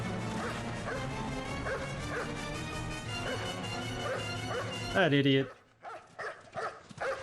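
Dog barking and yipping in the PC video game Still Life, a loud run of barks over game music, ending in a sharp whimpering burst as someone talks over it.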